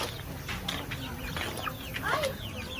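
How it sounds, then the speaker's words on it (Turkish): Chickens cluck and chirp in short, scattered calls over a busy farmyard background at a nature village in Çatalca, Istanbul, with faint voices mixed in. "Tavuklar var."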